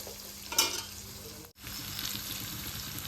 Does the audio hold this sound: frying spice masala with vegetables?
yes